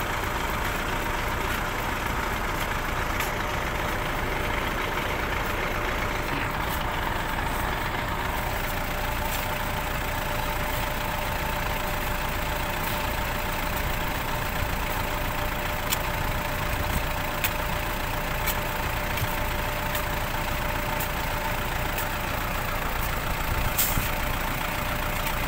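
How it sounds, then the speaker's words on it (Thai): A farm tractor stuck in mud runs its engine at a steady idle, a continuous low rumble with a faint high whine that holds level for the whole stretch, with no voices. "โอ้รถไถติดก่อนว่ะ"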